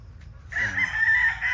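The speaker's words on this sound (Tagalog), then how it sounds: "Yan ang mga pullets." A rooster on a farm crows a long, loud call that starts about a third of the way in and carries to the end, with pullets kept for breeding clucking faintly beneath it.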